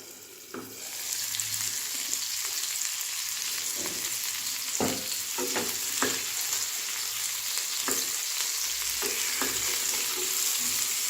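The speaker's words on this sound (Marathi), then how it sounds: "याच्यानंतर आपण पंधरा ते वीस मिनिटांपर्यंत कारले शिजत ठेवणार आहे" Stuffed bitter gourds cooking in a pan, giving a steady close sizzle throughout with occasional soft knocks and scrapes, no speech.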